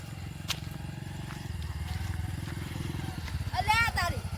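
A motorbike engine putters steadily and grows nearer while people talk over it, and a higher voice cuts in near the end.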